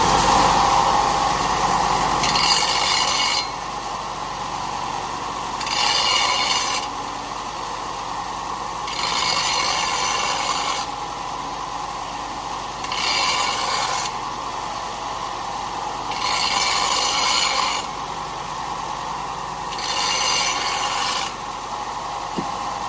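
Hand deburring of a stainless steel exhaust pipe before welding, repeated rasping file strokes in regular bursts about every three to four seconds over a low steady hum, close and alone.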